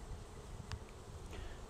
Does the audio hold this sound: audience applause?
no